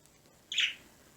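A single short, faint bird chirp rings out over a quiet outdoor background on a winter day with snow on the ground, with no other sounds nearby.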